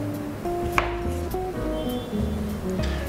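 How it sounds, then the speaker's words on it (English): A kitchen knife halves cherry tomatoes on a cutting board, giving a few soft, close taps and cuts over kitchen background noise. "slice all your cherry tomatoes in half"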